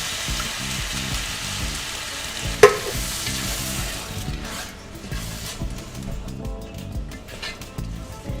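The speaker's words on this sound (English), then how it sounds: "Just add in your crushed tomato just like that" Crushed tomato hits a hot pot of shrimp and sausage jambalaya with a sharp splat, followed by steady close sizzling and stirring that softens toward the end.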